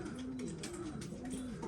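Pigeons, newly arrived and weak after a long journey without food, coo softly and repeatedly in a steady, low, rolling pattern that continues throughout.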